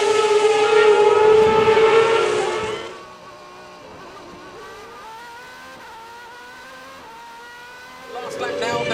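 Superleague Formula race cars roar past on the Assen circuit in the Netherlands, a loud engine blast for about three seconds that drops to a distant whine, then rises again as another car approaches; a commentator talks over it.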